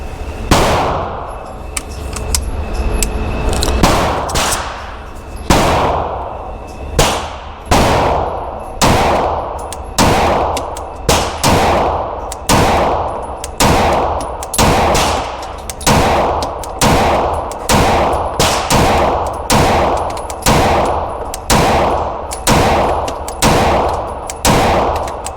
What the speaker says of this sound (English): I'm just running a total of 30 shots through the MC9 Prime